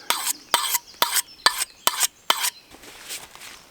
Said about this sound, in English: Finished with the grinding stone.